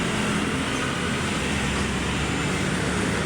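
Dense road traffic on Roxas Boulevard in Manila, a constant loud broadband roar of many passing vehicles with no break and no speech.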